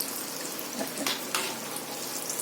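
Potato fritters fry in oil with a continuous close sizzle. A couple of brief scraping clatters come through as the fritters are flipped in the pan.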